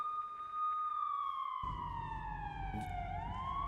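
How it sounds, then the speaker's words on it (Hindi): Air raid sirens wailing in Lviv, Ukraine, several rising and falling tones layered across the clip, with a steady low rumble of traffic or wind entering partway through; no talk. "लवीव में भी सायरन बज रहे हैं।"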